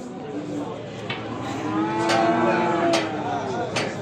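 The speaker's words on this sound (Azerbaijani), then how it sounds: "Bax belə dana." A calf at a livestock market in Beylagan lows in a long, drawn-out moo that swells in the middle, close and clear against a murmur of market background, with no talk over it.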